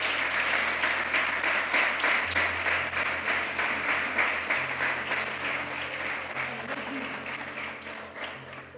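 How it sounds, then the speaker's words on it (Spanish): Steady congregational applause at a church service, many hands clapping together in a dense sustained wash that slowly thins toward the end, with a low hum underneath. "Dale un fuerte aplauso a Dios"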